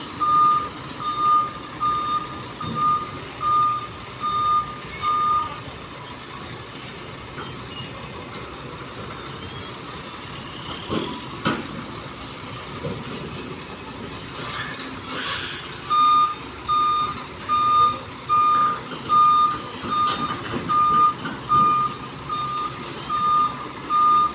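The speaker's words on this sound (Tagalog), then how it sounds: "Howo power truck." A Howo power truck reverses with a steady electronic beep repeating at an even pace. The beeping drops out midway, then resumes over a low engine rumble and surrounding site noise.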